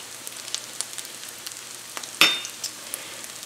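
Spinach bites frying in a pan give a soft, steady sizzle with small crackles and pops, plus one louder clatter midway.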